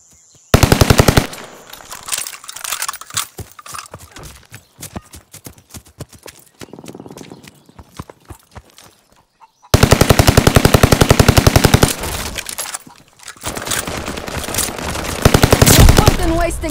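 A Welgun submachine gun fires rapid automatic bursts in a Call of Duty Vanguard hardcore deathmatch, loud and close, with long sustained strings of shots broken by short pauses and quieter gameplay sound between.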